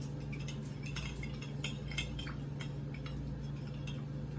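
Mie Goreng sauce of vinegar and brown sugar is stirred with a utensil, faint light clinks and scrapes against a bowl repeating quickly over a steady background hum.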